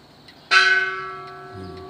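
A temple bell is struck once in the early morning on the Mekong riverbank in Sangkhom, Nong Khai, Thailand, ringing out loud and clear, its deep resonant tone slowly fading with a long shimmering sustain.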